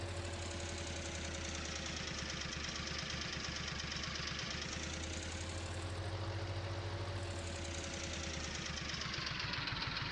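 A small John Deere tractor engine in Farming Simulator 19 drones steadily throughout, with a loud, even, continuous running rumble and no voices.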